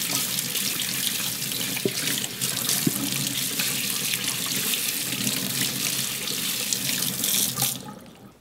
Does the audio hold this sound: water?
yes